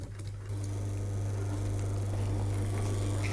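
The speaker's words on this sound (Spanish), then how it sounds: "Manuel asegura la base del ribete con la aguja y el hilo de la máquina de coser" An industrial sewing machine runs steadily while stitching the base of a leather binding on riding gaiters in a saddler's workshop. A low, continuous motor hum with faint mechanical ticking carries on without pause and without talk.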